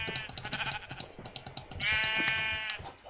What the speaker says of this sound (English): I have like an obsession with killing sheep.